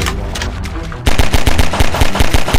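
Rapid automatic gunfire erupts while monsters are shot in Garry's Mod on a horror prison map, a steady loud stream of close shots after a dense burst, with no pauses.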